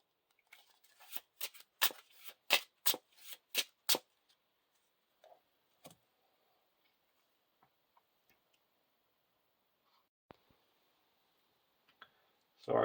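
A Lord of the Rings card game deck is shuffled by hand, eight crisp riffling bursts in quick rhythm up close, followed by sparse soft clicks and card handling in a quiet room.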